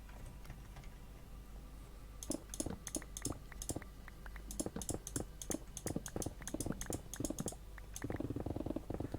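A computer mouse is clicked loudly and forcefully in quick irregular bursts, close to the microphone in a quiet room.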